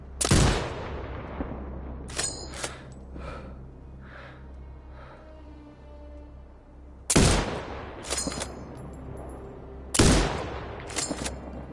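Rifle shots ring out in a shooting video game, three sharp, loud blasts spaced several seconds apart, each followed by fainter echoing rumbles and small impact clicks, with no talking.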